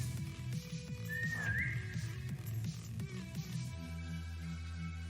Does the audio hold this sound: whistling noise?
yes